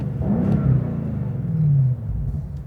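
A BMW M8 Competition coupe's engine and exhaust give a deep, heavy rumble that swells twice over a few seconds, with a low droning tone rising and easing back, close and steady with no talking.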